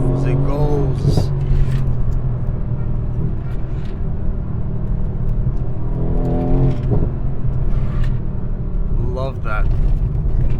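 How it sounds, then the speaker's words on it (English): A Mercedes-AMG C63S V8 rumbles and whirs steadily up close, swelling a few times as it pulls hard in race mode, with a voice briefly audible over the engine. "it has that big V8 rear-wheel drive and it goes"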